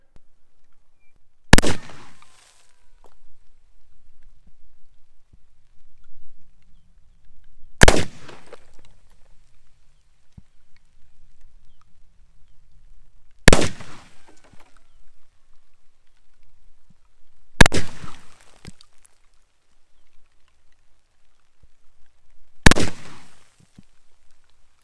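A Remington revolving carbine fires five loud, sharp single shots outdoors, spaced several seconds apart, each cracking out and decaying quickly into near silence.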